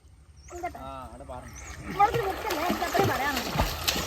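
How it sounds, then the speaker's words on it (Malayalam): Water splashes during a swimming lesson, light irregular slaps and sloshes close by, mixed with children's voices and chatter throughout. "അവിടെ വെള്ളം തെറിപ്പിക്കല്ലേ"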